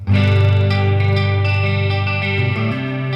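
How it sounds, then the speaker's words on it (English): Clean electric guitar chords shimmering with a chorus effect, sustained and ringing with a wide, wavering tone, played alone at a steady moderate loudness. "Clean chorus. It's very 80s"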